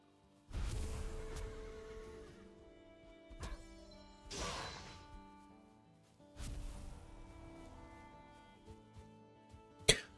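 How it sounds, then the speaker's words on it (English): Hostile horses in a siege game give loud, close neighs and whinnies, three long calls spaced a few seconds apart, followed by a sharp clatter near the end, with no voices. "I wasn't expecting the horses to be fully hostile"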